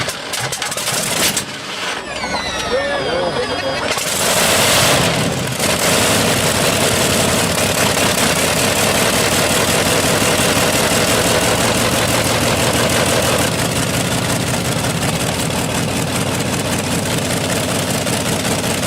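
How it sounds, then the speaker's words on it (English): A rare old 18-cylinder tractor-pulling engine cranks over, catches, then roars at a loud, constant, rumbling pitch for a long stretch with no voices. "This engine's roar shakes the ground."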